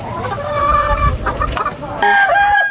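A hen clucks up close in short, loud, choppy bursts, with a sharper squawk near the end and no talking.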